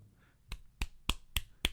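Five sharp, evenly spaced claps ring out close by in a steady beat, each a crisp single slap against a quiet background.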